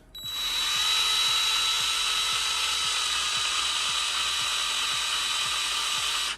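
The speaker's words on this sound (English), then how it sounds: "Watch this, watch the drill." A drill spins a cheap 2-inch hole saw with a steady, loud high-pitched whine over a regular low ticking from the wobbling saw, running for about six seconds.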